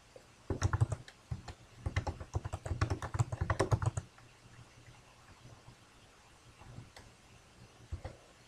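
A password is typed on a computer keyboard. Quick, close clacking keystrokes come in rapid bursts for several seconds. The typing then stops, leaving quiet with only a few isolated clicks afterwards.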